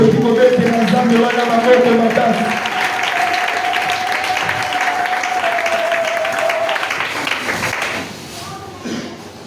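A church congregation at a Sunday thanksgiving service applauds and acclaims for Jesus, a broad sustained wash of clapping and cheering that fades near the end, with a voice speaking over it at first.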